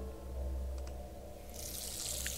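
Water pours onto a plant in a point-and-click horror video game, a steady running trickle like a tap, with a brighter splashing rush near the end.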